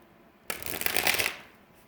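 A short burst of tarot cards being shuffled, a quick riffle of about a second that starts abruptly and fades out, close and fairly loud against a quiet room.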